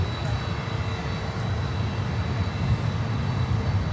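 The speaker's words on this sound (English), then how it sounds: "American Airlines flight 843. That's a 321 neo coming in from Phoenix" An American Airlines Airbus A321neo jet comes in to land at Miami airport, heard as a steady distant roar of engine noise with a faint high whine, without distinct voices.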